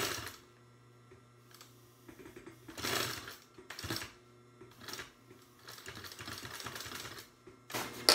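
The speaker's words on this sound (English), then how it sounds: "I'll just sew across here" A sewing machine stitching across a backpack pocket at the gusset edge, with short bursts of quick rhythmic clatter separated by pauses, near and fairly quiet, with no talking.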